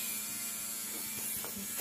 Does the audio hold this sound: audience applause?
no